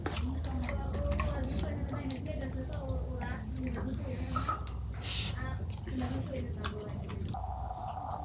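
Close, wet chewing and squishing while eating chicken curry with new potatoes, soft mouth sounds and quick bites mixed with a voice talking throughout.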